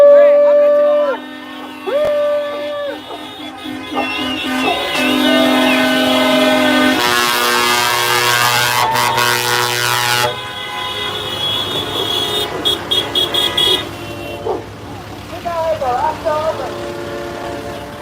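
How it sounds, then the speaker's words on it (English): Truck and car horns honking at a Freedom Convoy protest in BC, loud and close, with long blaring tones, a sustained multi-horn chord, then repeated short toots, mixed with crowd noise and talk. "The honking has not even slightly ceased."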